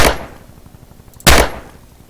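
Two sharp gunshots from a first-person shooter, Heroes and Generals, one at the start and another just past a second in, each loud and close with a fading tail and rumbling game ambience between them.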